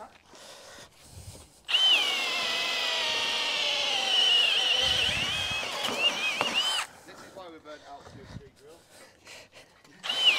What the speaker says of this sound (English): This is why we burnt out two-speed drill.